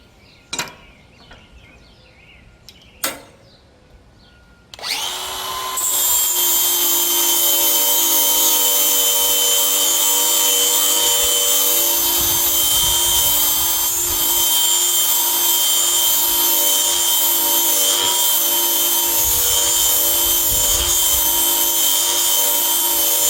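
An angle grinder fitted with a flap disc grinds Ballard Hi Rise mower blades. It gives two sharp clicks, then spins up into a loud, steady high whine with a rough grinding edge that holds for the rest of the clip.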